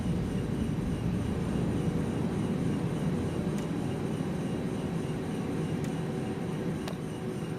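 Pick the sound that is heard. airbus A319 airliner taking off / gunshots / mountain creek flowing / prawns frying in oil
airbus A319 airliner taking off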